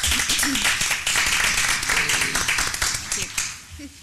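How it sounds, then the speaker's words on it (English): Audience clapping at a school board meeting, a steady dense patter of many hands filling the room, fairly loud, with some voices mixed in before it tapers off near the end. "I thought we'd like to show our appreciation for our clerk of the board, Cindy Chavis, just with a little clap."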